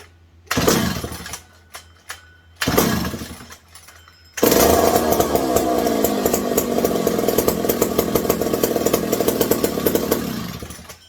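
A McCulloch 740 chainsaw under repair coughs into two short bursts, then catches and runs steadily near and loud, its raspy two-stroke engine holding a continuous rough drone.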